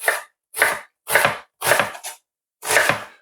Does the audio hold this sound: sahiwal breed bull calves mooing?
no